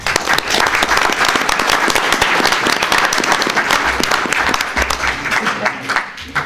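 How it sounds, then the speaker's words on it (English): Loud, dense applause fills a city council meeting room, with many hands clapping close and steady throughout. "So they need a big round of applause as far as I'm concerned."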